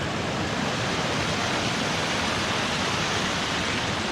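Steady, dense rush of fast-flowing water from the Staircase Rapids on the North Fork Skokomish River, loud and constant nearby, with no other sounds.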